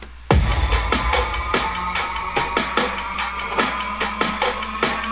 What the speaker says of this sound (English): I came up with these build drums that sound like this.